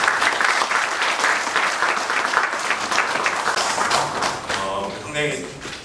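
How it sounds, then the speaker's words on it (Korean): An audience at a seminar on smart ports and global logistics gives loud, sustained applause. The clapping is dense and close, and it thins slightly near the end as voices rise. "자리에 앉으셨지만 다시 한번 큰 박수 부탁드리겠습니다"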